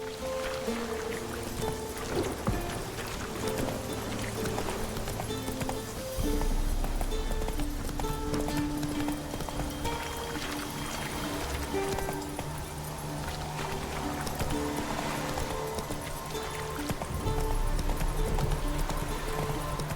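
Rhythmic clip-clop of hooves as Roach the horse gallops in The Witcher 3, steady and close for the whole stretch with game ambience underneath.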